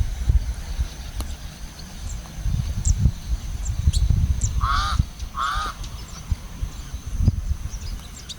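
A pied crow calls twice in quick succession, harsh nasal caws standing out over breezy outdoor island ambience with low rumbling wind and faint distant bird chirps.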